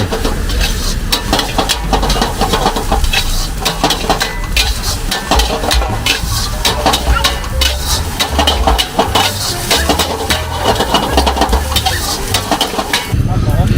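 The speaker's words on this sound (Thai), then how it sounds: "ดูเขาทำข้าวผัดนะครับ" Fried rice being stir-fried in a wok at a street food stall beside the Mekong in Chiang Saen, with steady sizzling and repeated scraping and clanking of a metal spatula, loud and close throughout.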